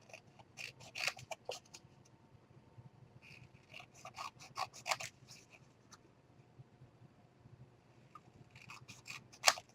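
Scissors snip straight through paper for a princess-themed 8x7 mini album, making close, crisp cuts that come in short clusters with quiet pauses between them.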